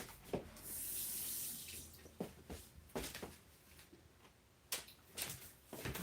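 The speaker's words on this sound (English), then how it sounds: "I'm just going to go rinse this off." Water runs from a tap as something is rinsed off, a soft steady stream broken by splashes and uneven gushes, close and fairly quiet, with no talking.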